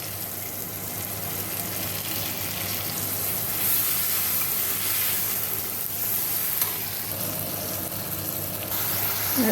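Asafoetida sizzling as it fries in a pan of oil with salt and turmeric, a steady, close hiss with faint stirring scrapes and no talking.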